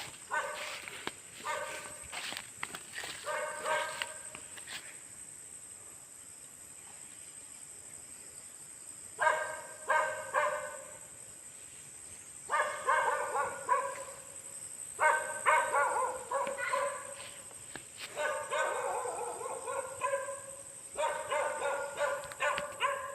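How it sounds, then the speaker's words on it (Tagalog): A dog barks in scattered bursts with pauses between them, fairly close, over a steady high background hum. "Ang tapang ng aso."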